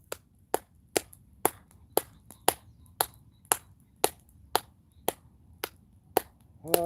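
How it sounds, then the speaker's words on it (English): Steady, evenly spaced hand claps from a campsite live stream, given in support of NHS workers, ring out one at a time at a regular beat, fairly quiet and close, with no talking over them. "Gonna clap with me, everyone."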